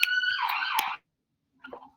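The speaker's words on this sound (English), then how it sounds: "Sorry for the siren." A siren wails outside during an online conference talk, a clear rising-and-falling tone for about a second that cuts off, followed by a brief faint sound.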